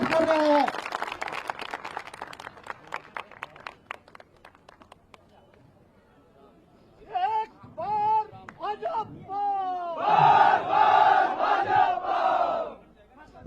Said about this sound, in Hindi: जोरदार तालियों से आप मुख्यमंत्री जी भेंट कर रहे हैं।